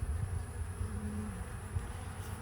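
Bees buzzing around a hive box infested with hive beetles, a low continuous droning hum with faint wingbeat whine drifting in and out, close and steady with no talking.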